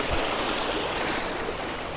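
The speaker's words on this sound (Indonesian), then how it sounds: "Kita kayak ngelewatin sungai kecil gitu, solokan kecil gitu ke sana" Small stream along a trail to the Curug Walet waterfall, a steady broadband rush of flowing water that stays close and even throughout, with no voices over it.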